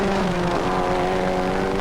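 A Renault rally car at the Boucles de Spa rally, 1995, passes with a steady droning engine note at moderate distance, with no talk over it.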